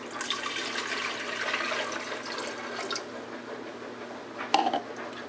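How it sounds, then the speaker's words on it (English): Two cups of water poured into a blender jar for a green smoothie, a close rushing splash lasting a few seconds that tapers off, followed by a brief knock. "let's add in our 2 cups of water"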